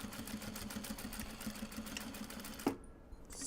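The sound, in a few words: sewing machine stitching a seam on an obi and kimono bag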